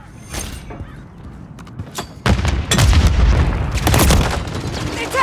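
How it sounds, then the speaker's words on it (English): A stun grenade goes off in Call of Duty Modern Warfare amid scattered shots, then a loud burst kicks in and sustained heavy noise follows; voices call out in between. "Stun grenade out!"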